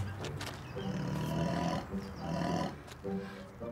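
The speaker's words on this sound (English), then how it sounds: "Cute little lion cubs." Lion cubs let out a series of low, growly roars in short bursts, moderately close and fairly quiet, with brief pauses between them.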